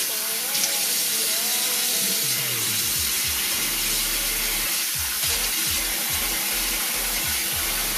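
Hot water runs steadily from a tap as a face is rinsed, giving a constant, close hiss of flow with splashing and a few irregular low gurgles and knocks.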